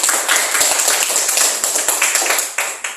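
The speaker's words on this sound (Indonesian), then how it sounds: "Kita tepuk tangan dulu" A classroom of pupils claps for the best discussion group, a close, dense patter of hand claps running steadily throughout with a few sharper individual claps standing out.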